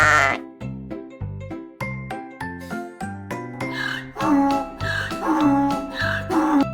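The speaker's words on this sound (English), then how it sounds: "It's a sheep." A sheep bleats several times over bouncy children's music, its wavering calls coming loud and close in the latter half.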